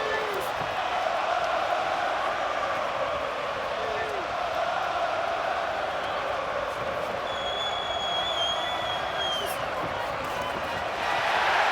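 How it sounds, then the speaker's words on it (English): A large boxing stadium crowd at a championship fight between Kambosos and Haney roars in a dense, continuous wash of noise, swelling slightly as punches land, with scattered whistles and shouts. "Here the crowd reacts as Kambosos fires off on the inside"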